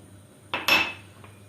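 A spoon clinks and scrapes against a metal pot while semolina halva is stirred, two short bright metallic bursts with a faint tap after, nearby and alone.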